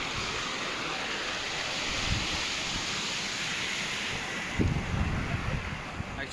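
Sea water washes in at the Haji Ali Dargah causeway in Mumbai, a steady broad surf hiss mixed with wind buffeting the microphone. A slightly louder surge comes near the end.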